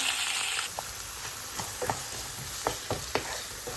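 Onions frying in hot oil with ginger garlic paste, a steady close sizzle with a few scattered sharp stirring scrapes and clicks, no voices.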